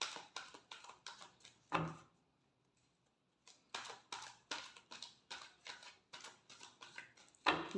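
Tarot cards are shuffled by hand in quick rhythmic bursts of soft flicking taps, pausing briefly in the middle before resuming, close and fairly quiet.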